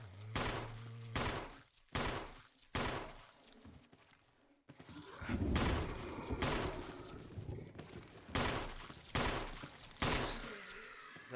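Gunfire in the video game Resident Evil Remake, a string of loud, sharp shots spaced roughly a second apart with a rumbling burst in the middle.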